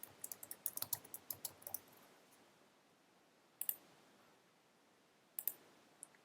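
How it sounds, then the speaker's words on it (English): A computer mouse clicks and a keyboard types in a quick burst of close, crisp taps, then after a pause a couple of isolated clicks follow in a quiet room. "So to edit texts, just double click"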